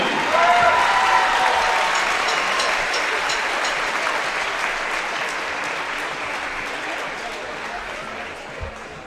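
Audience at a Mount Gilead Athletic Hall of Fame induction night applauds for an inductee, a broad steady wash of clapping that starts loud and slowly tapers over several seconds, with faint voices mixed in.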